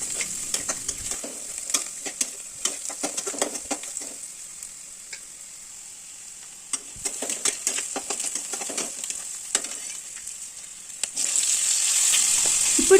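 Vada curry base with turmeric and salt fries in a pan, heard up close as crackling sizzle and busy, clattering stirring strokes. The stirring pauses briefly midway, and a brighter, steadier hiss rises near the end.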